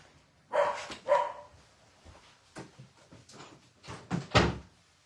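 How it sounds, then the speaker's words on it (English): A door is closed indoors with a few knocking thumps, while a house dog barks in short bursts nearby. "Let me go close my door because the dog is going to go berserko."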